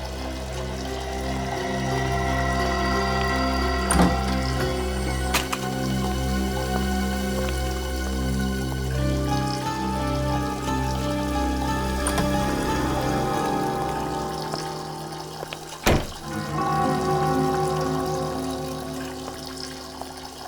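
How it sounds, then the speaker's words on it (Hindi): Water runs and drips from somewhere in a basement, a faint steady trickle with scattered drops and a brief louder splash near the end, heard alone without talk. "पानी की आवाज कहां से आ रही है?"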